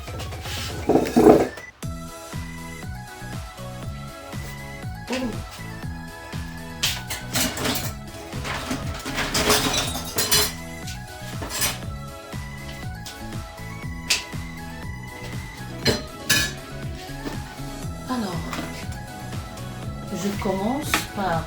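Kitchen utensils clink and clatter while a ladle is fetched during lamb kidney cooking, with scattered metallic knocks and scraping in an irregular rhythm and a person talking intermittently over them.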